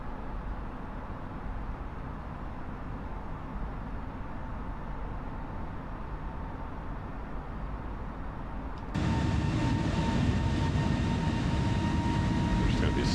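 An A32NX airliner in Microsoft Flight Simulator 2020 drones steadily as it climbs after takeoff, then the noise jumps abruptly to a louder, brighter roar partway through.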